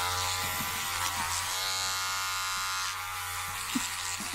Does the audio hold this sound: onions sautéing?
no